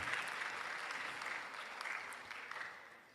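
Audience applause for a deputy minister at an induction ceremony for newly qualified physician assistants, a steady, fairly faint patter of many hands lasting a few seconds without a break.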